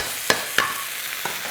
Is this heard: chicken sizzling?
yes